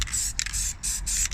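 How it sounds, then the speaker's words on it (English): Aerosol paint sprays onto a rusty car radiator in several quick, close hissing bursts separated by brief pauses. "spray that one over."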